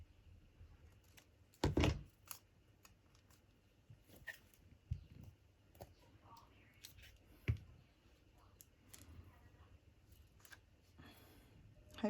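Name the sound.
scissors trimming a paper tag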